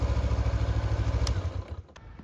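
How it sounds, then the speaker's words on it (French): Motorcycle engine idling close by with a rapid, even low thump and light mechanical clatter, then settling and fading toward the end with a couple of sharp clicks. "Démarre bien ton moteur."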